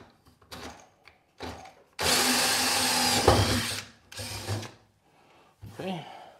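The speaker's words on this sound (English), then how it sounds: "I'm gonna use this hole saw bit again to drill this right here out" A power drill with a hole saw whines steadily for about two seconds between shorter bursts of motor noise, close and loud, with brief pauses, while working on a Club Car golf cart.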